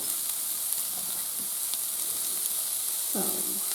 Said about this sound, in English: I'm going to add 2 tablespoons of soy sauce.